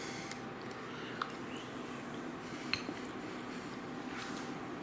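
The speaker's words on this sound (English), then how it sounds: "Stir your cheese in a little bit to get a little zest in here" A spoon stirs cheese into a pot of chili, making soft scraping and occasional light clinks against the metal pot over a steady low background hum.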